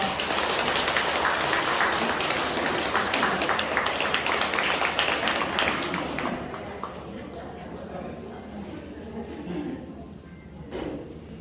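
At a neighborhood redevelopment briefing, a crowd gives warm applause for the committee chairman, loud and dense for several seconds before tapering to scattered claps and room noise.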